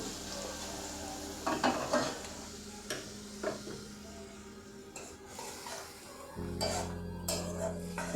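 Water goes into a frying potato and papad curry, and the pan hisses and sizzles steadily. A spoon clinks and stirs now and then, and a fresh burst of sizzle rises near the end.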